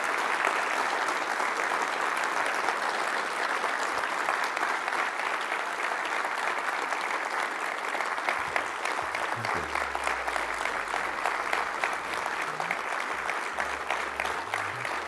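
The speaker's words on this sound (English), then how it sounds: "Wow, that's not your typical applause." An audience at a technology conference claps after a talk, a sustained, dense wave of applause that holds steady throughout, with a few low voices faintly under it.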